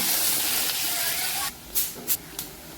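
Onion tossed into a pan with cumin and mustard seeds for tomato chutney, a steady close hiss that drops off and turns into a few short spitting bursts.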